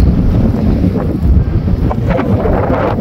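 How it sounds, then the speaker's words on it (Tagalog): Strong, cold wind roars and buffets the microphone outdoors in a steady, loud rumble with gusty swells, and no voices are heard. "Lakas ng hangin dito ngayon"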